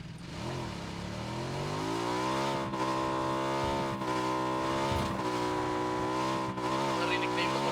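An engine drones loud and steady with pitch that rises and settles over several seconds, close by, with voices at times.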